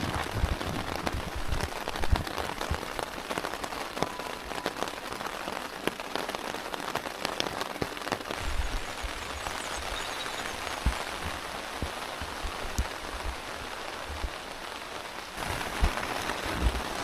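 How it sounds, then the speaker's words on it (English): Steady rain falling all night on a small backpacking tent, a dense continuous patter of drops on the fabric with occasional louder taps, close and unbroken, no voices. "it's rained all night"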